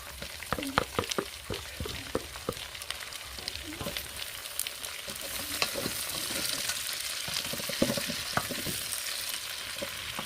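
Onion, green peppers and garlic frying in a pan for kabsa, a steady close sizzle with frequent scraping and tapping from stirring throughout, no voices.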